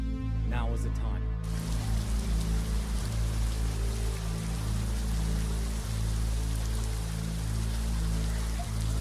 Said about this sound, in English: After a couple hours of non-stop rain